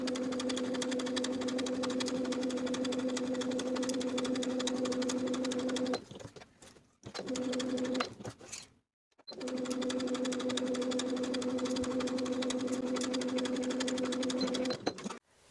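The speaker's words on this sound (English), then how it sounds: "I'm going to top stitch along my finishing stitches" A sewing machine topstitches along finishing stitches on a Simplicity 8454 garment, giving a steady, humming run that stops briefly twice for short pauses and pivots, then resumes.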